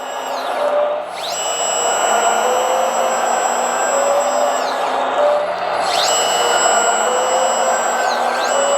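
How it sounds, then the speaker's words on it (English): A metal 1/14-scale RC hydraulic wheeled excavator, model LR914, runs with a loud, steady electric-pump whine whose pitch rises and falls as the hydraulics work, heard up close with no talking. "So it will also have the hydraulic rotation, which is 270 degrees as well."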